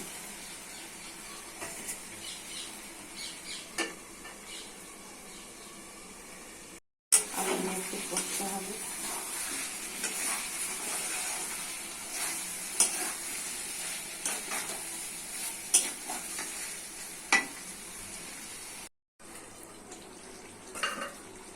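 Potatoes and chicken fry in a spiced pan while a spatula stirs and scrapes with repeated clinks over a continuous sizzle, broken by two brief silent gaps.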